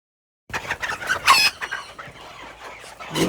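Old English Game Bantam chickens give a few clucks and squawks close by, an irregular cluster of short calls with one sharper squeal, then quieter rustling and a louder cluck at the end.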